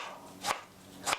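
Knife slicing a tomato into 0.5 cm slices on a cutting board, two crisp close chops about half a second apart over quiet kitchen background, no talking.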